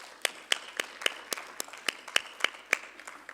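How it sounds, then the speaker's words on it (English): Scattered audience applause at a plenary session of a 2017 forum, a few distinct claps ringing out at a fairly steady pace, thin and moderately close in a large hall. "A big round of applause"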